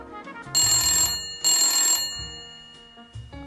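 A telephone bell rings loudly in two long bursts separated by a short pause, with faint low background sounds between and after the rings and no talking.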